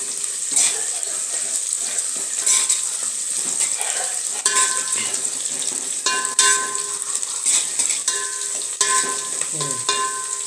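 Three or four Byadagi chillies crackle in hot oil for a tempering, with a loud, continuous sizzle broken by scattered clicks and scrapes of stirring and no talk.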